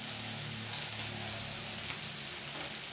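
Beef satay grilling with a steady, close sizzle and crackle of meat on the grill, continuous and fairly even throughout with a low hum underneath, no talk.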